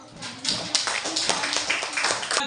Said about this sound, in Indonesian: tepuk tangan sama kelompok 2